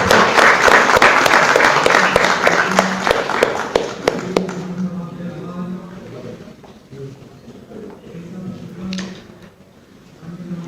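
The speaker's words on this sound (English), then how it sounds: "A huge round of applause." Loud applause from the audience at a felicitation ceremony of the Institute of Cost Accountants of India, dense clapping at first that thins and fades over the following seconds while murmured voices and movement continue underneath.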